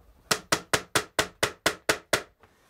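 Nine sharp, evenly spaced hammer strikes from a small short-handled hammer driving copper tacks into a wooden trug basket, loud and close with crisp ringing decays, followed by a faint final tap.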